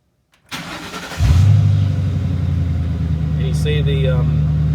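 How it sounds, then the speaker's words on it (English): A 1966 Ford F100 truck engine cranks briefly, then fires and settles into a steady, loud, rumbling idle close by. "let's crank the truck up."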